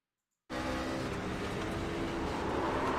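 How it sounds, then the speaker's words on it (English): A sim racing truck engine heard from inside the cab starts abruptly after silence and holds a steady, loud, gritty roar, with the pitch shifting slightly as it downshifts. "Definitely downshifted as opposed to upshifting. You can hear the tack, the motor really hit there pretty hard."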